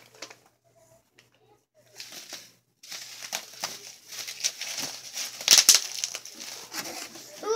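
Bubble wrap packaging around a book crinkles and rustles up close, with a few sharper crackles and pops, after a quiet start.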